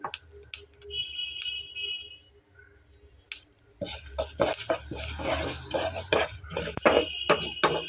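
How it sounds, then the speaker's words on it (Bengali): Dense crackling pops from flax seeds dry-roasting in a hot pan over lowered heat, starting quietly then turning rapid and continuous, with a few sharper clicks and scraping. "চটপট চটপট করে ফুটছে"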